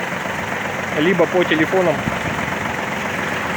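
A Kubota L-205 mini tractor engine idles smoothly and steadily in the background, a constant low rumble running beneath a man's speech throughout.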